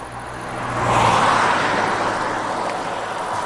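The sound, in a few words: car passing on a road in Lozère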